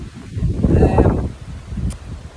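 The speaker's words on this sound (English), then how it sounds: "So it's kind of windy here." Gusts of wind buffeting nearby, a rumbling rush that swells and fades twice, with faint rustling.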